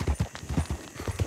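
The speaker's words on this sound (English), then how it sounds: "the horse is going to do its job and get rid of the body" A horse's hooves clip-clop steadily in Red Dead Redemption 2, a brisk rhythmic walking beat of hoof falls close up, with faint game ambience behind.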